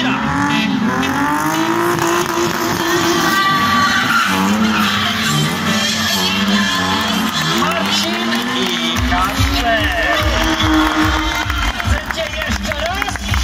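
Stunt cars at a stunt show perform a J-turn in reverse, with loud, sustained tire screeching and revving engines close by, while a commentator talks and a crowd is heard over the action.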